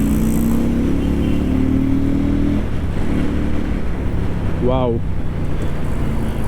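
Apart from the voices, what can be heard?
Keeway Benda V302C two-cylinder motorcycle engine and exhaust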